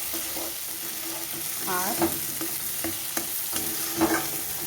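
A ground paste of nuts and ginger is stirred into frying potato balls in a pan. The oil keeps up a soft sizzle while a spoon scrapes and knocks a few times, and a brief word is spoken.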